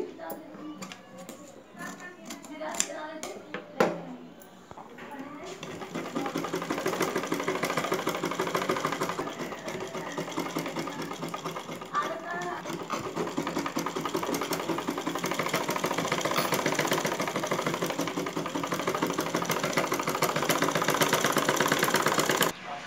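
A sewing machine stitches the puffed sleeve of a blouse: brief voice and handling sounds at first, then a continuous, even mechanical whirr running steadily to the end.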